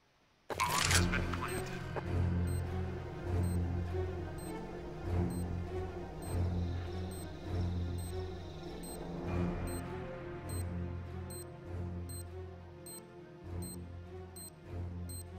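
A planted bomb in CS:GO ticks with sharp, evenly spaced beeps that run steadily throughout, over a low hum of game ambience, with players talking at times.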